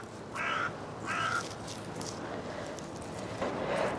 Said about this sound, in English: they're really going for the crows, aren't they?